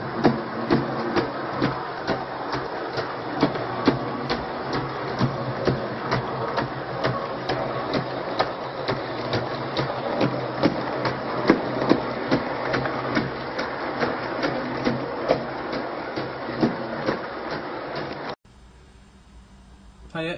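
A model Castle class locomotive runs after a split gear on its rear driving wheel was replaced, giving a steady close mechanical whirr with regular rapid clicking beats for a long stretch before cutting off abruptly.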